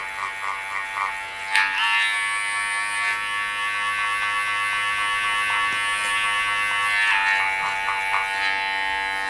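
Electric hair clippers with a 0.5 guard cutting hair on the back of the head, a close, steady high-pitched buzz with slight changes in pitch as the blades move through the hair.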